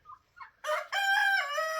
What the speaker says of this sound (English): He's a pretty rooster.